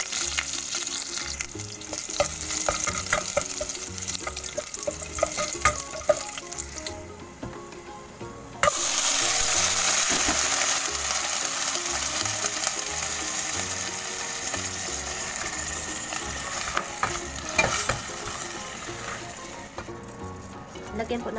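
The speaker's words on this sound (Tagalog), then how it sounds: "Then, lagay na po natin ang bawang." Garlic sizzles in a pan while artichokes cook, a steady fry hiss beneath scattered clicks and knocks of utensils, with a brief quieter gap midway before the sizzle returns stronger.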